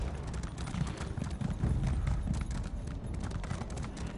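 Horse hooves clip-clopping in The Elder Scrolls Online, a steady rhythmic trot of repeated hoof strikes, moderately close, continuing evenly for the whole stretch without talk.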